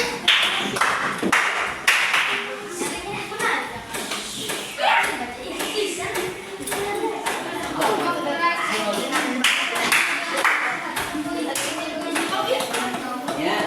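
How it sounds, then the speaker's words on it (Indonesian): A classroom of students applauds a presenting group with bursts of hand clapping, mixed with children's voices and taps, moderately loud and uneven across the span. "tolong beri tepuk tangan dulu buat kelompok 2-nya"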